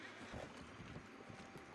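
Galloping horse in the video game Red Dead Online, quiet rapid hoof clops over a wind-like background hiss, brief and faint.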